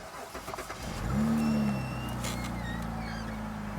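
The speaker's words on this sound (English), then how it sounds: "So now let's start the engine and see what happens." A Cadillac SRX4 being diagnosed for engine hesitation and power loss cranks and fires up close by, settling into a steady, loud idle hum with no talking.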